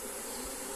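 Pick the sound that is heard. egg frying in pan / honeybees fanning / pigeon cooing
honeybees fanning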